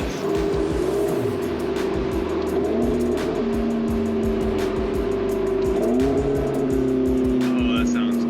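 A 750 wheel-horsepower McLaren MP4-12C engine drones loudly at a sustained high pitch while accelerating, with a faint turbo blow-off valve hiss near the end; a voice speaks over it.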